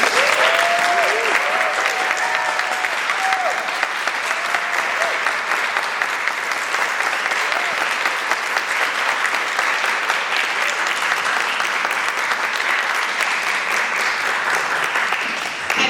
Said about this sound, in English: I would love to give one more big round of applause for our composers who share their music